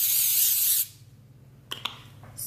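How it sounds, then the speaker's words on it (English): Cooking spray is hissed onto a piece of plastic wrap in a kitchen while making keto low-carb bread: one loud, close burst of spray just under a second long, then near quiet with a couple of small clicks and a short final hiss. "What I'm gonna do is I'm gonna spray it"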